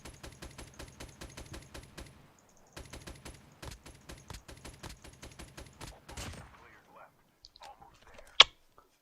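Rapid bursts of automatic weapon fire in the mobile shooter Call of Duty Mobile at long range, dense repeated crackling volleys in two long strings with a short pause between them, then scattered shots and a sharp loud crack near the end.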